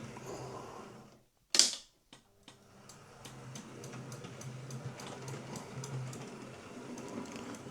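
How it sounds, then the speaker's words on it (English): Hornby B1 model locomotive running in reverse: after a sharp clack and brief pause, a fast, regular train of faint clicks ticks over a soft motor rumble, close and unaccompanied by talk. "I've got something clicking in reverse, particularly around the curves."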